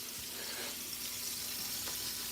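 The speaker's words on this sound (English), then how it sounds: "We're frying crappie." Crappie fillets frying in hot oil, a steady soft sizzle and crackle running throughout the short stretch with no voices.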